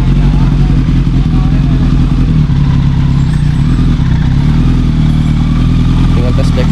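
A Suzuki Thunder motorcycle engine, restored after a crash, runs steadily during a test ride with a loud, low rumble and a rattling clatter throughout, close up and continuous.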